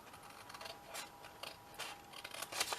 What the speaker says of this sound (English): And then I'm going to cut down the side